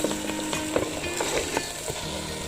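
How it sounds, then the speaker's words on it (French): Chicken curry with potatoes and coconut milk stirred in a pan, a steady dense sizzle with repeated scraping spoon strokes, close and continuous. "Donc là, je vais mélanger pour un bon moment."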